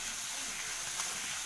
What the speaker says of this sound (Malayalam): ഇനി ഇഞ്ചി ചതച്ചതും വെളുത്തുള്ളി ചതച്ചതും പച്ചമുളക് ചതച്ചതും ഇട്ടിട്ട് ഇതും നന്നായിട്ടൊന്ന്